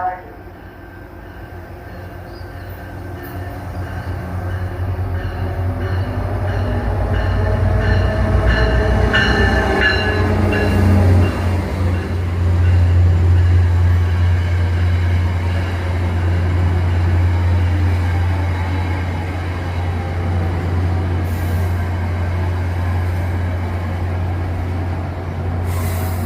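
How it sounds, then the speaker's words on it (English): VRE commuter train 305 rolling into Fredericksburg station on track 2 with a steady low rumble of wheels and faint squeals as it arrives. "VRE Fredericksburg, train 305 is arriving on track 2."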